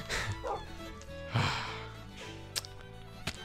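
A dog named Ninja in Minecraft gives a few short barks and yips, with sharp clicks and game noise around it.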